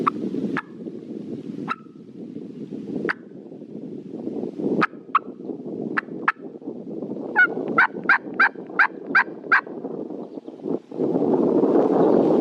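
Hunter's latex turkey call blown loud in open woods while foraging for morels, a quick string of sharp high yelps answered by gobbling turkeys amid gusty wind noise.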